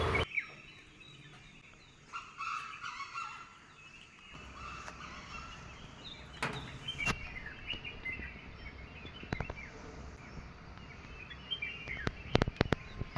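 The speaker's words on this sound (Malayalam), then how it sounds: "ആ കിളികളുടെ സൗണ്ട് നല്ല മനസ്സിനൊരു കുളിർമ ആയിരുന്നു" Several birds chirp and call outdoors on a misty morning in Vagamon, with a steady hum of insects beneath and a few sharper close calls near the end.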